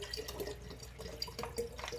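Bottled water poured into a container of juice while making old-fashioned switchel, a soft trickling and dripping close by, steady for about two seconds with no voices.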